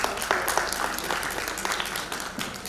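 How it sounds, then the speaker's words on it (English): A conference audience at a rural India market-access session applauds to welcome a panelist, a steady patter of many hands clapping close by for the whole stretch. "Let us welcome her with a big round of applause."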